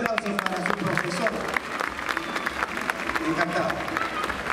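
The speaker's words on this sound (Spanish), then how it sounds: "un fuerte aplauso para su profesor" Audience at the Festimundo 2023 event applauds a teacher, a lively burst of many hands clapping with scattered voices and cheers mixed in throughout.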